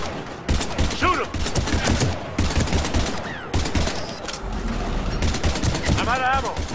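Rapid gunfire from the video game Mass Effect 3 rattles in dense, loud bursts over battle noise, with voices shouting throughout.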